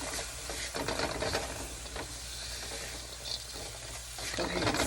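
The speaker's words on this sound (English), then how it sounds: "Go ahead and stir that around." A spatula stirs brown sugar around a hot pan, giving a scraping, sizzling texture that carries on continuously at close range, with occasional talk underneath.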